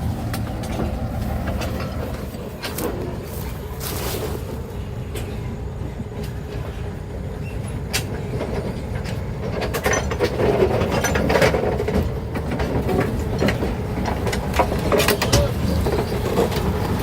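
A large locomotive rolls slowly over portable rail track laid on bent sleepers, giving a continuous loud rumble with metallic clanks, creaks and ratcheting knocks from the wheels and track throughout.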